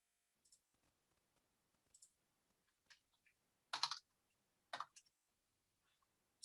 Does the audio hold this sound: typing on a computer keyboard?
yes